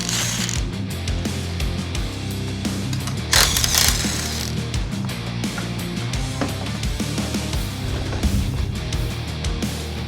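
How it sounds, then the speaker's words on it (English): Clattering ratchet and metal-on-metal clicks from tools working loose the gas tank bolts on a quad, close and fairly loud, with a steady busy rhythm and a brief louder burst partway through. "Now we've got 4 gas tank bolts to remove"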